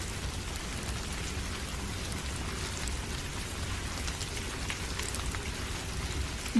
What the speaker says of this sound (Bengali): বাহিরে ঝড় বৃষ্টি হচ্ছে।